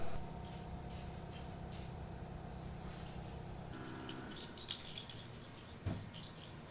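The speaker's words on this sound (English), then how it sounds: "I'm gonna go ahead and start applying this spray" Short bursts of aerosol tire coating spray hiss on and off, quiet and close, with faint rattling and a low background hum between sprays.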